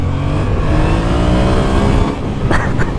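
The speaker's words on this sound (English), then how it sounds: "this is a fun little motorcycle to ride hard and do wheelies on" Yamaha FZ-07 (MT-07) motorcycle with ABS, a 2017 model, its engine droning loud and steady under hard riding, with a brief dip near the end and a couple of short bursts as the rider shifts and revs.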